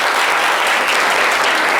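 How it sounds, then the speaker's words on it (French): Steady, dense applause from a studio audience at a live entertainment show, loud and continuous for the whole short stretch. "On peut l'applaudir."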